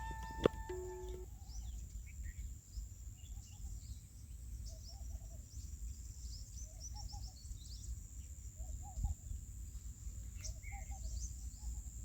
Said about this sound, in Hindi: प्रकृति को फील कीजिए, पक्षियों की आवाज़ को फील कीजिए